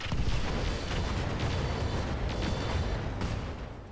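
Mech weapons fire in the Roguetech battle game, a loud, dense roar of rumbling blasts and booms that holds steady for several seconds with no talk.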